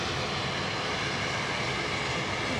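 A Norwegian airliner in special livery passes by over Edinburgh, its engines a continuous broad roar that stays loud and even for the whole stretch, with no talk.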